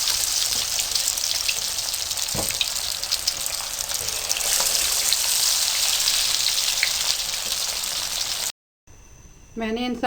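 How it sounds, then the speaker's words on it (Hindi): Chicken pieces fry in a pan with a steady, close, loud sizzle and crackle. A few sharp pops stand out, and the sound cuts off briefly near the end before resuming. "इस तरह से आप बाकी के पीसेस को भी फ्राई कर लें।"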